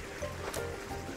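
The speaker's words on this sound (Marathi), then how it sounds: "हे पाणी चालू बघा, पाण्याचा आवाज येतोय." Water flowing at Chikhaloli dam near Ambarnath makes a steady, close, broadband rush that stays constant throughout, with no voices.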